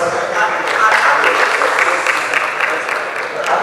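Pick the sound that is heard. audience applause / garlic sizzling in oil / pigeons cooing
audience applause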